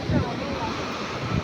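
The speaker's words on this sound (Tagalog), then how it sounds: "kahit medyo malalaki ang alon" Ocean waves surge and wash onto El Nido beach in Palawan, a steady, loud rush of surf mixed with wind buffeting the microphone, with no break in the roar.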